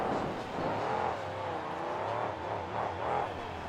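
The Grim Fate monster truck revving at the KORR Monsters Finals freestyle, a loud continuous engine roar that rises and falls in pitch as the throttle swells, heard alone without commentary.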